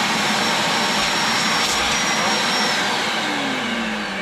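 A vacuum cleaner with its hose attached, which had been making a fault noise, roars loud and close in a steady rushing drone with a faint shifting whine.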